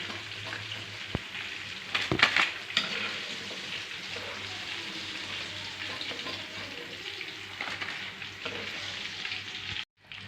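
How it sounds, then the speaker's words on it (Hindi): Boneless chicken pieces fry in hot oil for crispy fried chicken, a steady close sizzle running throughout with a few brief stirring clatters near the start and a short break near the end. "बाकी जगह इसको फ्राई करेंगे 6-7 मिनट"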